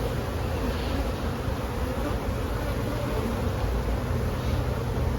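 Honey bees at an open hive make a dense, steady buzzing that stays close and continuous, with no talking.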